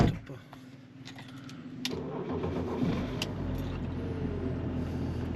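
Diesel engine of a BMW 530d E39 cranking and catching, then settling into a steady idle, with keys clinking and someone talking close by.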